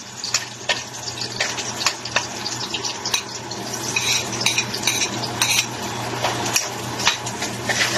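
Utensil scraping and stirring in a pan of banana heart being sautéed with garlic and onion, with steady sizzling and frequent clinks of a spoon against the metal.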